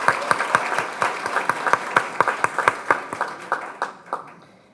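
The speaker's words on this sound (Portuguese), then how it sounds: "Uma salva de palmas para o Daniel." An audience at a forum applauds a speaker. The claps are sparse and distinct, sharp individual hits in an uneven rhythm that slowly thin out and fade over a few seconds.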